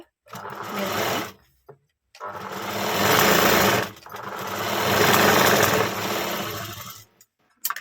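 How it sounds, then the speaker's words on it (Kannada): A sewing machine stitches blouse fabric, making a point seam in three loud, steady runs of rapid mechanical whirring separated by short silent pauses, close and clear with no talking. "ಇಲ್ಲಿ ಪಾಯಿಂಟ್ ಹೊಲಿಗೆ ಹಾಕೋಬೇಕು"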